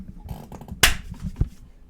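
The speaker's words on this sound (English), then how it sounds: "Second clap. 2 claps started off." Two sharp hand claps mark the start of an MMA podcast recording, one loud crack followed by a softer second, with quiet murmuring voices in between.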